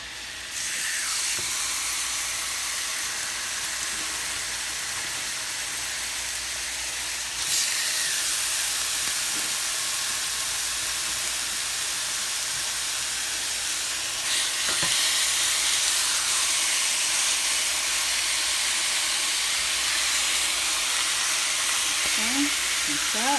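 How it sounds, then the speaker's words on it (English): Sausage and ground beef frying in a hot skillet, a steady broadband sizzle that runs loud and unbroken throughout, swelling a little at a couple of points as the meat settles, with no talking. "So I'll put half of the sausage, half of the ground beef. I'm going to cook this up. So a nice hot skillet."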